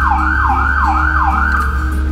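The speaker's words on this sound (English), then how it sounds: "Here goes siren one and two." Two ambulance sirens sound together from inside the vehicle, one a loud rising-and-falling wail cycling steadily and the other layered underneath, both close and dominant over a low engine rumble.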